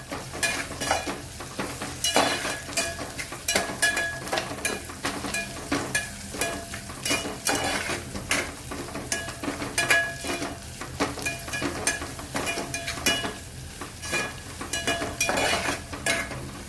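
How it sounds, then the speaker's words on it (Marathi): Onion fries in a pan with a pinch of salt for veg pulao, crackling continuously up close while a spoon stirs in irregular scraping bursts, no talking. "थोडंसं मीठ टाकून घ्या, कांदा पटकन भाजेल आपला."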